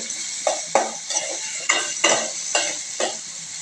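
Bay leaves, cinnamon and cardamom stirred in a cooking pot while making beef liver with potatoes, giving about eight sharp spoon scrapes and clinks on metal in an uneven rhythm over a soft background sizzle, close and clear with no talk.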